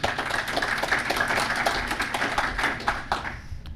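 Applause from a security conference audience welcoming a speaker to the stage, a dense patter of many hands clapping steadily at moderate volume, thinning out near the end.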